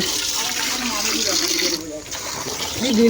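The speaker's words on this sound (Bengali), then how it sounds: "তো এখানে আমরা প্রথমে চালটা ধুবো" Rice being rinsed and swished in water at an outdoor picnic, a steady watery splashing that runs under ongoing talk and dips briefly midway.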